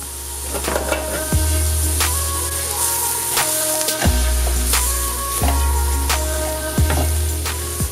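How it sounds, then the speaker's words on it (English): A pan of mixture with lime juice and cilantro is stirred over steady sizzling, with a soft scraping and shifting texture and repeated light knocks and clinks against the pan. "I want to mix and stir this around for about 15 minutes"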